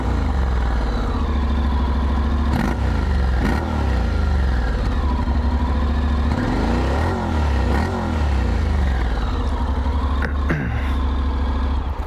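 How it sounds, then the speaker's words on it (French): A Honda X-ADV 750 scooter with its stock exhaust rumbles with a deep, motorcycle-like engine note, rising and falling with revs while riding, loud and close alongside wind and road noise. "en termes de bruit, avec le pot d'origine, ça fait vachement quand même moto."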